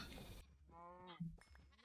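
A Minecraft sheep gives a short, wavering bleat, a single nasal call heard fairly close and quiet, with a brief bit of game noise before it.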